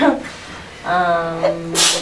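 A single sharp sneeze near the end, preceded by a brief voiced intake, close and loud.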